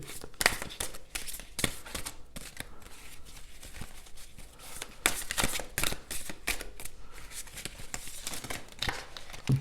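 Oracle cards are shuffled and handled close up, rapid papery riffles and flicks in quick irregular bursts, with soft rustling between.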